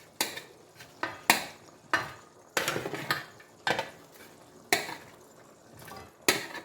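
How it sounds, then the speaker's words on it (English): Oven-cooked meat is added back into a pot of efo riro soup, heard as a series of distinct clanks and scrapes of a utensil against the pot, about ten separate knocks with soft sizzling between them. "The meat is back from the oven, so I introduce it back into the pot."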